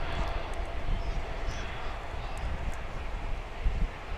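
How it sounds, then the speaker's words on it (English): An airliner's jet engines spool up on approach to DFW International Airport, a steady broad roar with low rumble, heard from the ground amid wind noise. "you could probably hear the engine spin up as it was approaching the airport"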